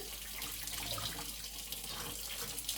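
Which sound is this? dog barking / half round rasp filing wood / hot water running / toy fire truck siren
hot water running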